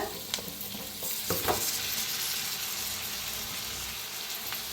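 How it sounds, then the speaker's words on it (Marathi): Cooked rice is tipped into a pan of fried seasoning and stirred in, bringing a few spoon knocks and scrapes at first, then a steady, even sizzle running underneath. "आता छान मिक्स केलेला आहे, आता टाकूया भात,"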